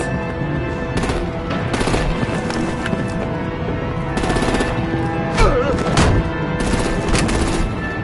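Rapid bursts of gunfire and artillery in Batman: The Enemy Within, sharp cracks and rattling volleys that come in irregular clusters over a busy, loud background of action noise.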